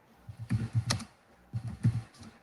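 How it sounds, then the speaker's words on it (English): Fingers tap a computer keyboard in two quick bursts of close, crisp keystrokes separated by a short pause, with no talking over them. "Sorry, I'm just typing for a sec"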